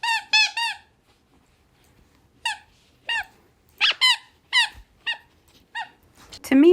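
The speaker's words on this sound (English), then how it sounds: "Ella, I am so glad I bought you the squeaky toys for when I'm doing these voiceovers" A dog works a squeaky toy, producing a string of sharp, bright squeaks in bursts, several quick ones then spaced single squeaks, close and loud in a quiet room.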